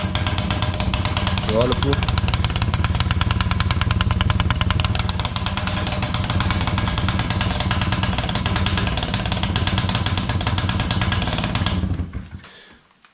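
A Honda Wallaroo moped with a rusty, oxidized exhaust runs with a loud, steady, rattling engine drone that cuts out near the end, with a brief remark spoken over it.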